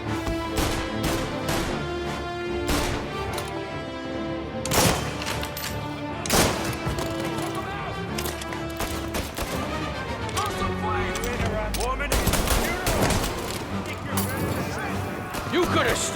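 Shootout in the video game Mafia, with a string of sharp gunshots cracking out at irregular intervals over tense music and scattered shouting voices, some bursts louder and closer than others.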